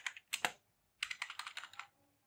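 A computer keyboard clatters as Python code is typed, two short bursts of crisp keystrokes close up, separated by a brief pause, in a quiet room.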